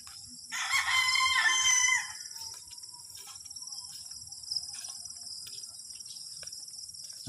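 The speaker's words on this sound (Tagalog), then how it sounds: "si George nagatiman siyang manok" A rooster crows once, loud and near, a strained call lasting about two seconds, then a steady backdrop of insects buzzing at a rural backyard with no talk.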